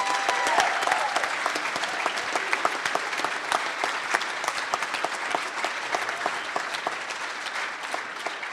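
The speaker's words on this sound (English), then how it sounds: "Let's give them a round of applause." Dinner audience at a charity winter ball applauding sponsors, dense sustained clapping from a large crowd filling the room evenly for several seconds and tapering slightly.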